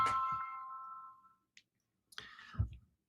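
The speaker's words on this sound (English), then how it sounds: "My phone went off." A phone notification chime goes off, a bright ringing tone that fades over about a second, followed by faint clicks and handling noise as the phone is dealt with.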